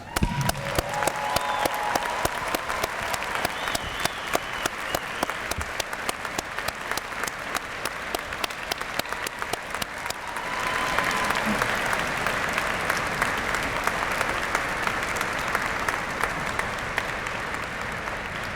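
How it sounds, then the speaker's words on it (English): A large convocation hall of engineering graduates and guests fills with sustained applause for the graduates' families, dense clapping that swells louder partway through and keeps going. "Graduates, please join me in applauding the support that they have given you."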